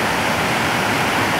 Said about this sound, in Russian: И река, бурная такая река.